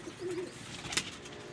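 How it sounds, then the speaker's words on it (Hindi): A female pigeon kept by a pigeon fancier coos once, a short low rolling call near the start, followed by a faint background rustle and a brief sharp click. "वापस आ गई हमारी कबूतरी।"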